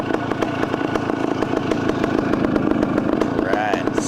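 A 1972 OSSA vintage two-stroke motorcycle engine running close by with a rapid, buzzy, rattling beat that holds steady, then rises briefly near the end, with a voice heard over it.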